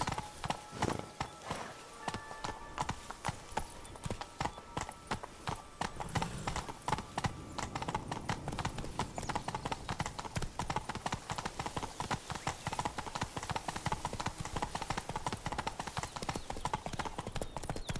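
Horse hooves clip-clop steadily in the video game The Witcher 3: Blood and Wine, a continuous close rhythmic patter of several horses walking along.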